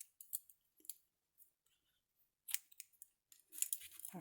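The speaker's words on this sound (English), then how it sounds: "Grab a pair of scissors here." Scissors snip thread sharply several times in short, irregular bursts during bookbinding signature sewing, close by, with quiet pauses between the cuts.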